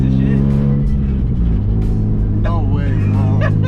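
A Nissan 350z runs rough with a loud, low, droning engine hum close by, while people talk over it throughout.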